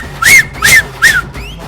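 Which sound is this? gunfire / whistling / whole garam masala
whistling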